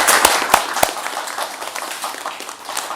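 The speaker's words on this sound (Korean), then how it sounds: "박수 한번 치죠." An audience at a youth forum with a prime minister breaks into scattered applause, sharp separate claps at first that settle into a moderate, steady patter, heard close.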